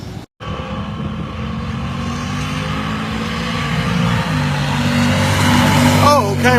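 Cars in a grudge race at Redline Raceway roar loudly as they accelerate, engine pitch climbing steadily under crowd noise and excited voices.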